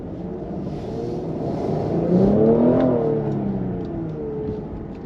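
A 2020 Cadillac CT5-V in custom V mode revs its engine, a smooth moderate whir that rises in pitch to a peak and then settles back, heard from inside the car.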